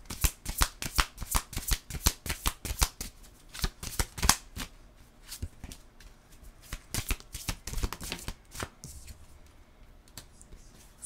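Cards are shuffled rapidly in a quick series of crisp riffling clicks, close and fairly quiet, before one card is drawn in a tarot-style reading.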